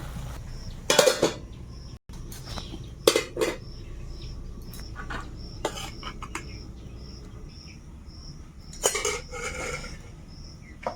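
Onions softening in a pan with released water are stirred with a metal utensil, giving a few sharp scraping clinks spaced apart, while a steady insect chirp and faint birdsong carry on in the background of a Sundarbans outdoor kitchen.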